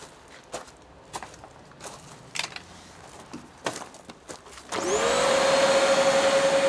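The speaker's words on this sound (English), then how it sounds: "Vacuum cleaner." A few scattered knocks and handling clicks, then a vacuum cleaner powered by an EcoFlow Delta Pro battery switches on, its motor whining up and roaring steadily, loud and close.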